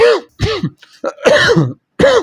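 A person coughs and clears their throat several times in quick, rough bursts, close by, with short pauses between.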